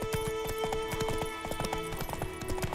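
Rapid rhythmic clip-clop of a galloping horse's hooves in The Witcher 3 video game, steady and close, with faint game music in the background.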